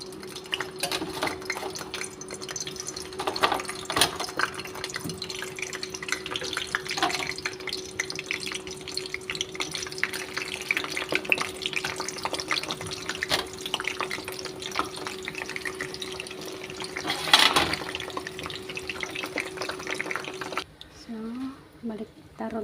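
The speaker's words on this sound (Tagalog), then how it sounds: "So mainit na yung oil, lagay natin yung sambusa." Cheese sambusa deep-frying in hot oil gives a continuous bubbling, crackling sizzle close by, with scattered sharper pops, before it stops suddenly near the end.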